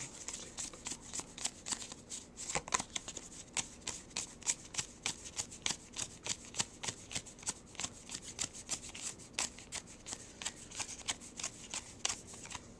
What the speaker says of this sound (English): Let me just count these cards really quick.